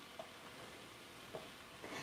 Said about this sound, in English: And it's still sizzling.